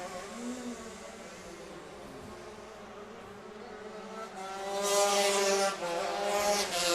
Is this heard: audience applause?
no